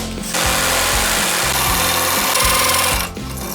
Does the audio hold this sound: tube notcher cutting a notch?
yes